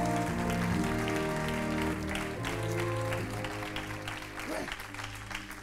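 A church congregation applauding during an Easter service, a steady wash of clapping under sustained organ or keyboard chords and a preacher's voice, continuing throughout without stopping.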